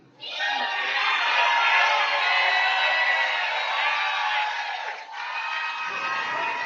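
Crowd at a post-debate watch party for President Biden cheering and whooping loudly and steadily for several seconds, a bright sustained roar with a brief dip before it carries on.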